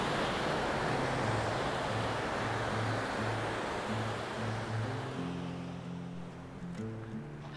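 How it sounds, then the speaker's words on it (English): Loud, continuous rushing water roars broadly throughout, with a low tonal melody underneath and the rush easing slightly toward the end. A raging river near Hidden Falls, Grand Teton National Park. "Follows this raging, roaring water back down."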